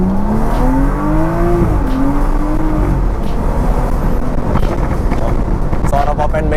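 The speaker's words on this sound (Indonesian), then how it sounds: "Suara pop and bang kedengeran" A modified BMW 435i in manual Sport Plus mode accelerating hard, with a steady engine drone rising in pitch under buffeting wind noise and a cluster of sharp exhaust pops and crackles near the end.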